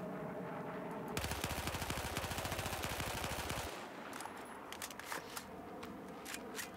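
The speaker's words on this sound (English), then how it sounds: "I'm going to shoot at this wall full auto one more time" Full-auto weapon fire from a Battlefield 4 gun aimed at a wall, a loud rapid burst of evenly spaced shots lasting about two and a half seconds, followed by scattered impact clicks and faint rattles as it dies away.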